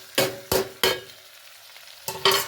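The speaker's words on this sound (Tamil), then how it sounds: "இப்போ ஒரு கிண்டை கிண்டுறோம் அப்படி எல்லாத்தையும். எண்ணெயில் வணங்கட்டும் அப்படி." Seeds and other ingredients frying in oil while being stirred, giving four sharp scraping strokes of a spoon in the pan, each with a burst of sizzle, separated by quieter spitting.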